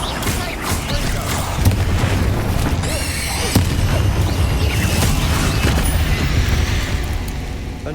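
Bombarda blasting spell going off in Hogwarts Legacy: a dense, continuous rumble of booming detonations with sharper bursts standing out, loud and sustained for several seconds.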